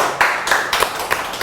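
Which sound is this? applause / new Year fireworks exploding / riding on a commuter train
applause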